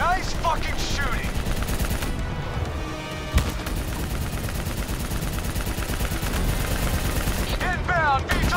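Sustained machine gun fire fills a Call of Duty Black Ops 3 battle, a loud dense continuous rattle with explosions and vehicle noise, while voices shout over the combat.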